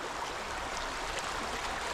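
A dog wades through a forest stream in Clocaenog Forest, with steady, loud rushing water filling the whole moment and no voices.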